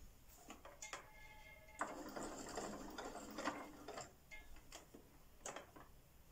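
Domestic sewing machine stitching fabric for a Halloween treat pouch, heard close in short rapid bursts of ticking, whirring needle strokes with brief pauses between runs.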